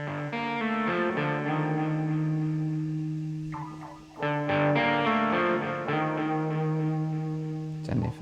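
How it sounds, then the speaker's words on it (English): Electric guitar chords ring out with a wash of Arturia spring reverb and repeating delay echoes, with a brief pause midway before the playing resumes. "it's got a Arturia spring reverb on it"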